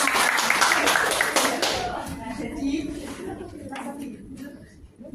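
Classroom group clapping during a teaching lesson, a burst of hand claps at the start that fades into a teacher's voice talking.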